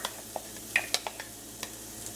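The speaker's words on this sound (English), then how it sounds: "we're going to keep it on low still, and we're going to start sauteing the garlic" Garlic sautés on low heat in a pan, a soft, faint sizzle broken by several light clicks and taps of a utensil stirring, with no voices.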